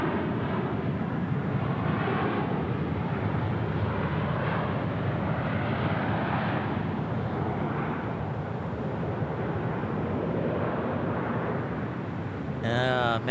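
A JetBlue airliner roars at night at Phoenix Sky Harbor International Airport, a loud and steady engine rumble that fills the whole stretch with no clear break.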